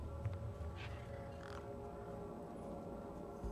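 Crows caw a few times at a moderate distance in the video game Beyond A Steel Sky, short harsh calls over a low ambient hum.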